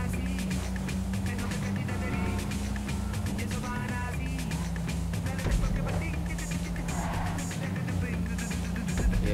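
A front-wheel-drive car races in GTA Online, its engine droning steadily with a brief tire skid, while voices and other game sounds play over it.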